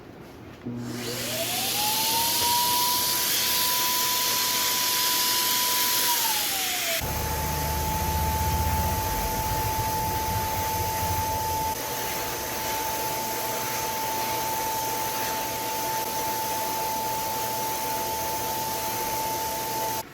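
A paint spray gun with an attached hose runs continuously, producing a loud, steady hissing rush with a whining tone that shifts pitch partway through while coating furniture, with no voices.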